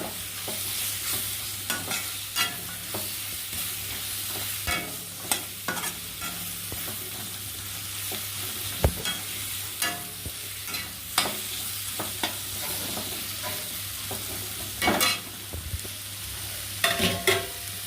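Capsicum sautéed in a pan for spicy noodles, a soft sizzle under frequent sharp spatula scrapes and clacks at an irregular pace, fairly quiet and without speech.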